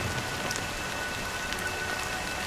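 Steady rainfall hisses evenly across surfaces in the game Honkai: Star Rail, a continuous wash of drops with no voices or other sounds.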